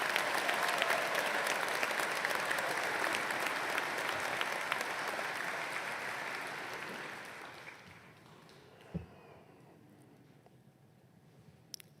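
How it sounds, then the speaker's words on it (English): A commencement audience applauds warmly in a large hall, dense clapping that holds strong for several seconds before fading into quiet room tone with a few stray claps. "Let's give Gio another round of applause"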